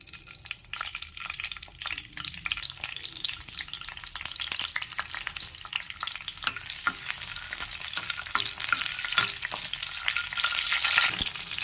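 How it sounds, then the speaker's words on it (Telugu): Green chillies frying in a pan, a dense crackling sizzle with spattering pops, close and continuous, growing slightly louder toward the end. "ఫస్ట్ పచ్చిమిరపకాయలు ఫ్రై చేసుకుందాం."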